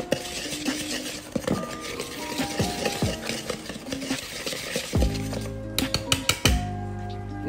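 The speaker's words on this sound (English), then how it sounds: "mix your flour and spices together" A utensil stirs and scrapes through flour and spices in a bowl for pumpkin cheesecake snickerdoodles, with repeated light clinks and scrapes at close range, ending in a few sharper knocks against the bowl under background music.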